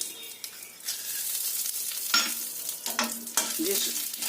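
Dried red chillies, bay leaves and whole mustard seeds fry in hot oil with a loud, continuous sizzle, overlaid by brisk stirring scrapes and a few sharp pops and clatters.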